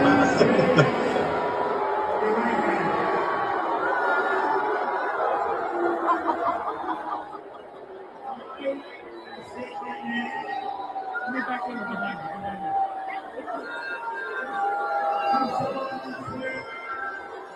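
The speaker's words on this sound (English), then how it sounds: "Listen to this crowd." A large crowd heard through a played recording, dense babble with snickers and chuckles rising and falling throughout, loud and continuous, slightly thinner midway.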